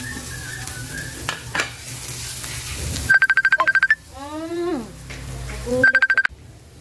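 Garlic sizzles and is stirred in a hot pan while cabbage cooks, a steady frying hiss with scraping stirs, broken by a few bursts of phone keypad beeps and a brief rising electronic tone.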